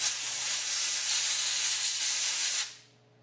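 Flux remover sprays onto a circuit board from a Mazda RX-5 electronic instrument cluster in one steady, loud, close hiss lasting a couple of seconds before stopping abruptly, with no talk.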